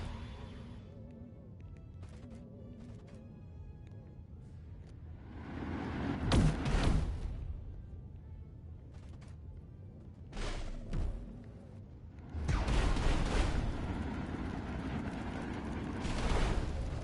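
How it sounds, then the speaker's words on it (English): Explosions from incoming missiles in the video game Destroy All Humans 2, a few heavy bursts landing around six, eleven and thirteen seconds amid a low game rumble, with a sustained roaring blast trailing the last impact. "Where are those missiles coming from?"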